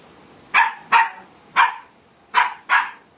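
A puppy barks five times in short, sharp bursts at uneven intervals, close and loud, with no one talking over it.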